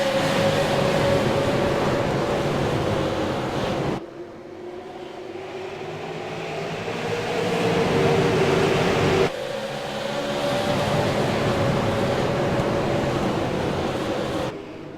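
Race cars accelerate at USA Speedway, a loud continuous engine roar in sections that switches abruptly between segments, with no talk over it.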